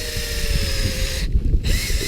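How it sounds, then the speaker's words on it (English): A steady power drill whirs close up as it drills into a tree, its motor hum continuous, with a brief dip partway through before it resumes. "I'm just going to drill that"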